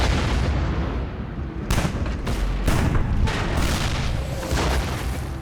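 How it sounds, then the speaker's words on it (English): Soviet artillery shelling Berlin in April at the close of the Second World War: a sustained rumbling barrage of heavy booms, with several sharper blasts breaking through a dense, continuous roar. "Soviet artillery begins to shell Berlin on April 20th"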